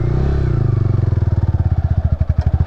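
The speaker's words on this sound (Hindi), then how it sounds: "ये अपना बाइक भाई" A motorcycle idles nearby in Kaho, a remote village in India, its engine thumping in a steady, fast, even rhythm that holds loud and close throughout, with no talk.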